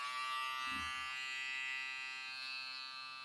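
Clipper or foil shaver motor running steadily at close range, a continuous bright buzz with a brief low thump near the start, no talking.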